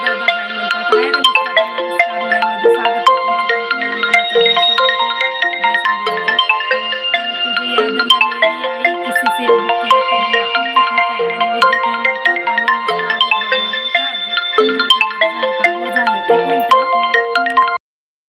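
A mobile phone ringtone plays a steady, loud looping melody for about eighteen seconds, its tones repeating without pause and with no talk over it, then cutting off abruptly at the end.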